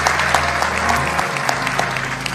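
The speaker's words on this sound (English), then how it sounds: "since y'all stood up and clapped so long" A funeral congregation applauds in a sustained, dense wash of clapping that fills the whole stretch evenly, with no talk over it.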